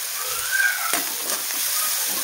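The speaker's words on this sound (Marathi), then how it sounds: "आता कांदा छान परतून घेऊया." Chopped onion sautéing in a hot pan, a steady close sizzle and crackle with a brief stirring scrape partway through.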